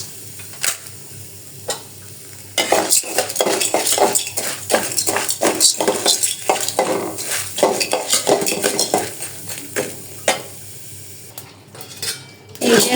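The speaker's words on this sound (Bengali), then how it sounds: "এই যে গমটা সুন্দর করে ভেজে নিচ্ছি" A metal spatula scrapes and clatters against a wok as salted wheat grains are dry-roasted and stirred, rapid irregular scraping strokes with a faint grainy rustle, close and loud.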